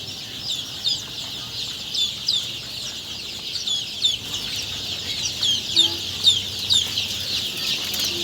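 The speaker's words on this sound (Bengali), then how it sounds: "খাবারটা খাচ্ছে মুরগির বাচ্চাগুলো" Sonali super hybrid chicks feeding in a brooding shed, a dense chorus of high, close cheeping and peeping that rises and falls continuously, with no talk.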